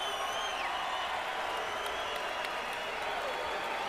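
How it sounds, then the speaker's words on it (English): A boxing crowd at Barclays Center stands cheering and applauding, a dense continuous roar of clapping and voices filling the arena at steady loudness throughout, with faint whistles rising above. "Crowd's on its feet in the Barclays Center."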